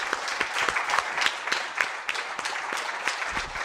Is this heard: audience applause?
yes